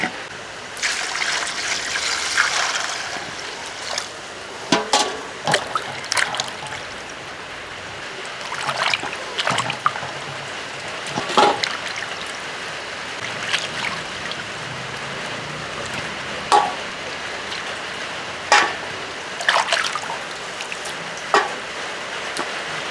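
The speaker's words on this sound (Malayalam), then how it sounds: "ഇനി ഇത് ഇതൊന്ന് കഴുകിയെടുക്കും" Chicken pieces washed under running water in a kitchen, with continuous splashing and trickling broken by sloshing surges and clunks as the pieces are handled.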